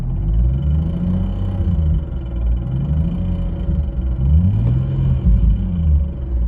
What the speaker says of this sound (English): I've got this horrible kind of Wheel of Fortune grinding sound that almost sounds like a bent leaf on the pressure plate or something.